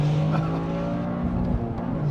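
A 2023 Toyota GR Corolla hot hatch's engine roars under hard braking, with a high, strained tire squeal rising through the middle of the clip, loud and close.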